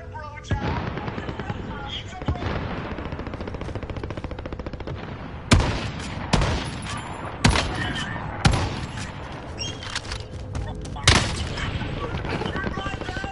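Gunfire in the battle-royale game Warzone, with sniper rifles among the weapons: rapid automatic bursts run throughout, broken by several sharp, loud single cracks, while a voice talks intermittently underneath.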